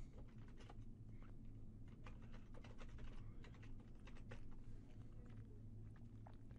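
Fast, continuous typing on a computer keyboard, with dense irregular key clicks close up over a low, steady background hum.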